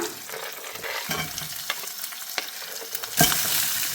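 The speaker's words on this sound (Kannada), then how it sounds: "ಈರುಳ್ಳಿ ಹಾಕ್ಬಿಡೋಣ." Onions and green chillies fry in hot oil with curry leaves for an Uttar Karnataka chutney, giving a steady close sizzle broken by scraping stirs and one sharp spatter near the end; no talking.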